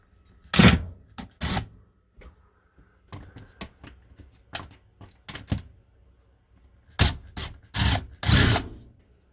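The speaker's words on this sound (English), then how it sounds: "I got to pull all these screws out." A power drill backs screws out of an RV roof fan, short loud whirring bursts separated by pauses, with softer clicks and handling clatter between them, close by and without talk.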